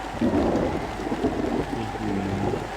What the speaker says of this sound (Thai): พายุเข้านี่